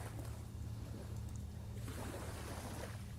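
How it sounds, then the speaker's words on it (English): Ocean waves at night ahead of Hurricane Ian, a low continuous rumbling wash of surf with gusty wind noise on the microphone, steady throughout without talking. "You can hear the waves."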